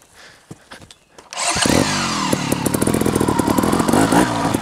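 A TRRS One RR trial motorcycle starts after a second of quiet clicks and handling noise, then its engine buzzes loudly and close, with fluctuating revs and throttle blips as it rides off.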